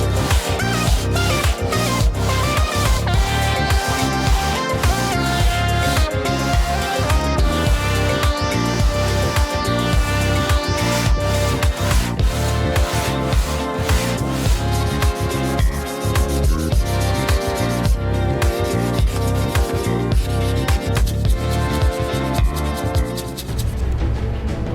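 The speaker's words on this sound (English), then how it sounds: "So far I haven't sanded the sides here, they are still rough and raw" Sanding the rough sides of an old knife under restoration produces a continuous close rasping rub in quick repeated strokes that keep going throughout.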